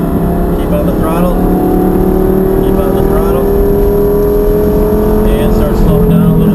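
Lamborghini driven flat out around a race track with a steep banked turn, its engine a loud steady drone holding a rising tone throughout, while a voice talks over it.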